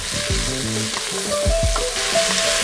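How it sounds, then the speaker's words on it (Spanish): Cauliflower with a slice of washed, unpeeled ginger and a pinch of salt sautés in a pan, sizzling loudly up close while a utensil stirs and knocks through the pieces. "Le pones un toque de sal y lo vas rehogando todo bien"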